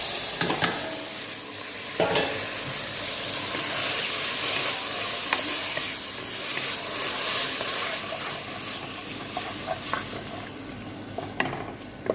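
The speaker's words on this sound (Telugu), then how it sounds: "ఇప్పుడు టమాటాలు వేసేస్తాం." Tomatoes tipped into onions frying in a pan for chicken curry (saloona), a steady close sizzle with occasional stirring scrapes, no talk.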